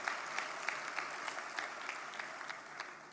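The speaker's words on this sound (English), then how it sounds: "Let us give him a big round of applause." Audience applause for the Prime Minister at the opening ceremony of Forum Ekonomi Malaysia 2026, a steady, fairly faint wash of clapping from a large hall crowd that continues throughout.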